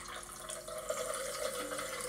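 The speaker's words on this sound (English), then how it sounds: "Then, pour 3 ounces of tonic." Tonic water poured into a mixed drink, a steady liquid splash and fizz running for about two seconds at moderate loudness with no talk.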